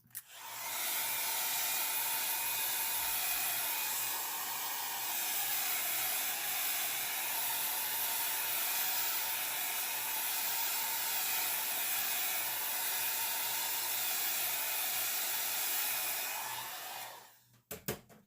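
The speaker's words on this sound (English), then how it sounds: "You can use a heat gun or a blow dryer to dry that down." A blow dryer drying alcohol ink runs steadily at close range, a loud continuous whooshing roar that cuts off near the end with a few small clicks.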